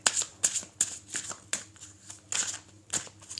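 Tarot cards being shuffled by hand, a series of quick crisp riffles and slaps in irregular bursts, close and fairly quiet, with no speech.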